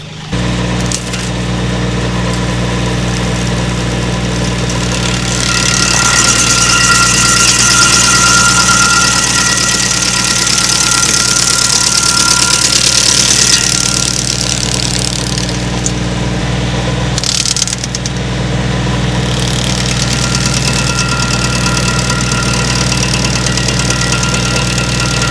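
A stump grinder driven by a tractor's PTO runs loud and close throughout, a steady engine drone with a rough, grinding roar on top that swells and dips slightly.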